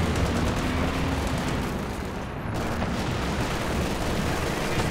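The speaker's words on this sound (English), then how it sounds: "I don't think I've seen that many explosions ever in a KO2" Many explosions at once in a Company of Heroes 2 2v2 battle, dense overlapping booms and gunfire-like blasts forming a loud, continuous barrage with a brief dip midway.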